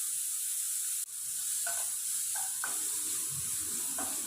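Onion, garlic, green chillies and spices sizzle steadily in hot coconut oil in a pan for cheera thoran, a continuous close hiss broken by a brief drop and a few short clinks of stirring.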